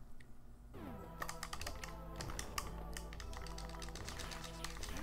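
Rapid, steady clicking of computer keyboard keys during a Metroid Zero Mission speedrun, close and fairly quiet, over a constant low electronic hum from game audio.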